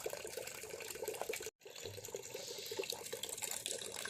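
Water runs steadily from a tap on a foggy morning, a close, continuous splashing rush that cuts out for an instant before flowing again, with no talk.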